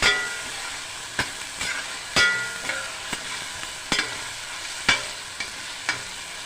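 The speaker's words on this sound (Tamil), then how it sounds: "இது கொஞ்சம் அந்த எண்ணெய் ஃபில்டர் ஆகி வரணும், அது வரைக்கும் நீங்கள் அப்படியே கிண்டுங்க." A masala of ginger-garlic paste with cinnamon and cloves frying in oil for a sprouted green gram kuzhambu, under a soft steady sizzle broken by sharp, irregular scrapes and taps of the stirring spoon against the pan.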